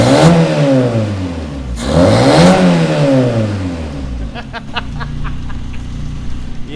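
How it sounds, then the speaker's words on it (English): Race car engine revving through its exhaust, rising and falling in two strong pulls before dropping to a rough, burbling idle with crackles, loud and close with no voices present. "Bosh, that exhaust is sounding sweet"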